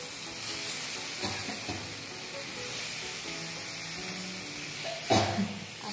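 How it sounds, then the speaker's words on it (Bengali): Food fries in oil spread around a pan, giving a steady close hiss and sizzle with a few stirring scrapes and a louder crackle near the end. "এরপর আমি এর পাশে একটু নিচেটা তেল ছড়িয়ে দিলাম"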